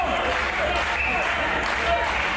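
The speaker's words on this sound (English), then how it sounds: "And as this crowd trying to rally behind Lewis" A wrestling crowd at a live event cheers and claps steadily to rally behind a wrestler, a dense continuous roar of applause and shouting.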